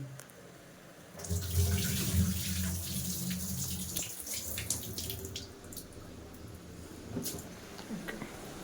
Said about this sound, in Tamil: அந்த தண்ணியை மட்டும் கீழே ஊற்றிடலாம்